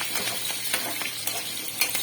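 Cumin, curry leaves, green chilies and a dried red chili crackle and sizzle in hot oil for a Ponnaganti leaf fry, a dense close hiss with a few soft stirring scrapes.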